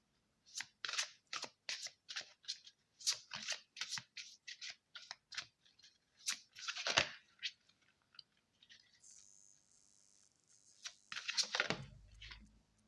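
Tarot cards are shuffled by hand nearby in quiet, crisp bursts of rapid papery flicks and slides, repeated in short clusters with brief pauses between them.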